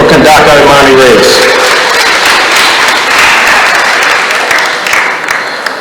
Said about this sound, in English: Let's give a round of applause for Kandaka Imani Reyes.